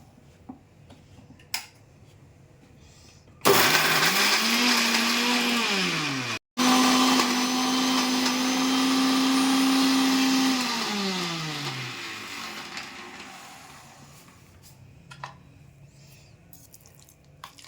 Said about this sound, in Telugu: చింతపండు వేసి మెత్తగా మనం మిక్సీ చేసుకోవాలి